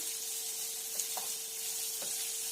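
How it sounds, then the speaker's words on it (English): Onion sizzles gently in a pan over medium heat, a soft, steady fry close by with a couple of faint clicks of a utensil and no talking. "We're going to cook this onion until it's lightly brown"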